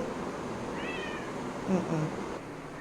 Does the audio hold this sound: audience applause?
no